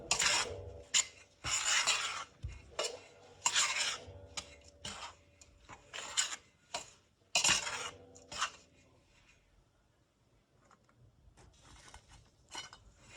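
A spoon stirring a mixture in a pot for Port Said and Damietta style qursa, with repeated scraping and clinking strokes in bursts, louder at first and then fading to softer, sparser scrapes.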